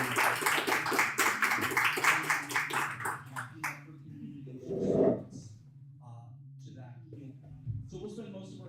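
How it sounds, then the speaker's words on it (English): A burst of audience applause, dense clapping for a few seconds that fades into scattered claps and a quiet room with faint voices. "could you please give a nice warm round of applause to Mr. Elwood Jones and this Sister Maureen"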